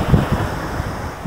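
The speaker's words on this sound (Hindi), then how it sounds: "अच्छी खासी वेव्स हैं" Waves break on Pattaya beach in Thailand while wind buffets the microphone, giving low surging rumbles and gusty noise close by, with no talk.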